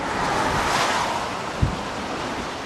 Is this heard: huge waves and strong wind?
yes